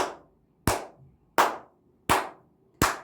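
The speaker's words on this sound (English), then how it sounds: "I have to clap for you." Five single, crisp hand claps at an even slow pace, each ringing briefly in a quiet room.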